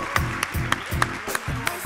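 Audience applause at a startup pitch award ceremony, a short burst of steady clapping from a crowd in a hall.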